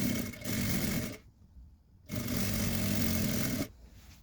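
An electric sewing machine stitches a seam on a school skirt in two steady bursts of fast, even whirring, close and fairly loud, separated by a short pause, with no talking.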